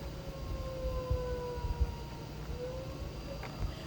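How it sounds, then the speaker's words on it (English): Tornado warning sirens wail in the distance, a steady, faintly wavering tone carried over a low background rumble, with no talking. "I don't know if you guys can hear the tornado sirens going off."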